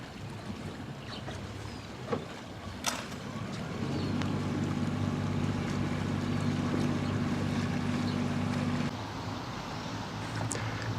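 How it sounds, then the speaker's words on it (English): On a canal in Scotland, a motorboat's engine hums low and steady at a moderate distance through the lock flight, growing louder midway and then easing off, with a few knocks and outdoor ambience around it. "we moored up to wait for a motorboat to come through the next flight of locks"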